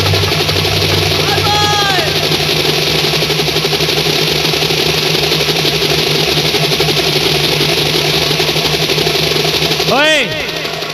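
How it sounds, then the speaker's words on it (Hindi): A helicopter engine drones steadily and loudly throughout, with a brief whining pitch sweep near the start and another near the end. "हेलीकॉप्टर नीचे ला।"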